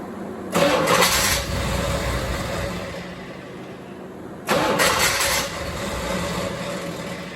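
A Chevrolet Corvette C4 engine cranks briefly and catches, idles roughly, then cranks and starts again, loud and close.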